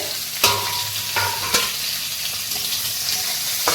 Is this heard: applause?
no